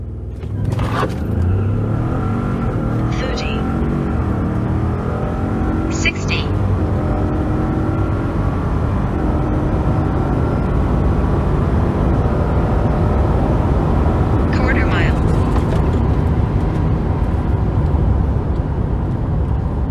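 Ford F-150 pickup, 2017 model, on a 0-60 drag run, with a loud, steady engine roar and road noise that hold for about twenty seconds, plus a few brief clicks and knocks inside the cab.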